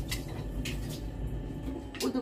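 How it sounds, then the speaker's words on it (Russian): Dishes are washed in a home kitchen, with a few soft clinks of crockery and cutlery set against a low background hum, all fairly quiet and close. "Помою посудку."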